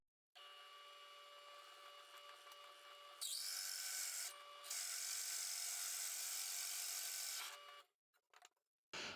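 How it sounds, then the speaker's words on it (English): A power drill with a dull bit whines steadily for several seconds boring holes in a wooden board, pitch rising as it bites in, pausing briefly, then grinding on before cutting off, followed by a few short bursts. "I'll drill 2 holes on the second Christmas tree."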